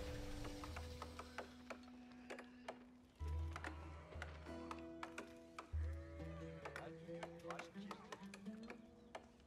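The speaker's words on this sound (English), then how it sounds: "A good amount of sheep for BOI" Sheep bleat repeatedly in a strategy video game, the short game-sound bleats mixed with clicks, ticks and other interface noises, while a commentator talks over them.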